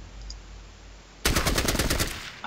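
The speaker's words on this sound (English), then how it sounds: "Again, these shotgun ambushes." Shotgun fire from the video game Fallout Tactics bursts in after a quiet stretch as a rapid string of loud, sharp blasts in close succession, filling the rest of the moment with no speech.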